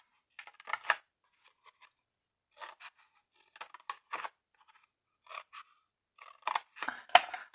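Scissors snipping through a paper advent calendar box, short crisp cuts in scattered bursts with quiet pauses between, close and fairly soft.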